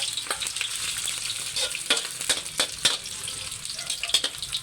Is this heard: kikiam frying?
yes